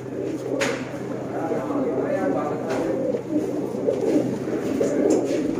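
Low, rolling coos from a large group of flying pigeons kept in breeding pairs, a dense continuous burble with occasional sharp knocks, close by and mixed with indistinct background voices.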